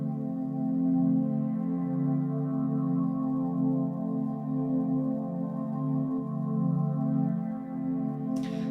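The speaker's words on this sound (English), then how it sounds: "So very basic sustained pad here" A soft, sustained synth pad holds a single minor seventh chord in a 90s retrofuturistic ambient drum and bass style, smooth and steady throughout, with no voices.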